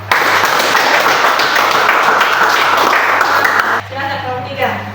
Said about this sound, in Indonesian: Aplaus untuk kelompok 1.